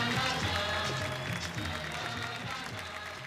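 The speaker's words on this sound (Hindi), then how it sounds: "क्या बात है जोरदार तालियां" Applause from an award show audience comes in under sustained music with a steady beat, moderately loud and spread across the hall for a few seconds.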